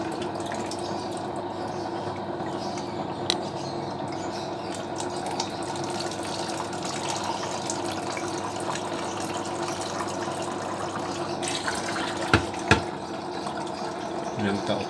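Water being drawn from the tube of a resin ion exchanger: a steady, continuous trickle and rush of liquid close by, with a couple of faint knocks near the end.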